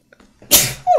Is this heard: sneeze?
yes